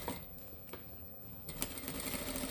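A sewing machine fitted with a walking presser foot stitches fabric for a puff sleeve dress, giving a close, steady mechanical whir with a few sharper clicks and no talking.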